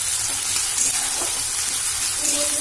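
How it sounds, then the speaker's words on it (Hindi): Onions frying in a pan, giving a steady, dense sizzle and hiss at close range, constant and even with faint crackles, no voices. "अभी मैं प्याज भूज रही हूँ"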